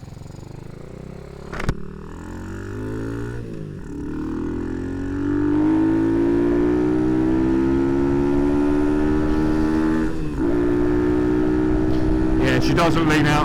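Modified Honda C90 motorcycle with a 170cc engine, ridden under throttle, its engine note climbing steadily in pitch as it accelerates, loud and close, with brief gear changes and wind noise.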